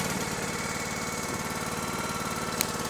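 A Split-Fire 3490 log splitter's small gas engine runs at a steady, even idle after a pull start, close and continuous with a brief tick near the end.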